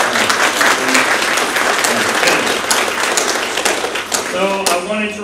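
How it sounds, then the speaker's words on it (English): An audience at a workplace celebration breaks into strong, sustained applause, a dense roar of clapping that tapers slightly toward the end as voices begin to speak over it. "Applause."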